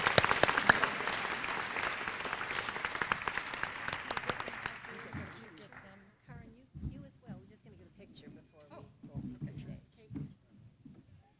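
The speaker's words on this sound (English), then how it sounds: "let's give them a round of applause for what they've achieved and what they will do" An audience gives dense, sustained applause at an annual awards and recognition ceremony, loud for several seconds before it thins out and speaking voices take over.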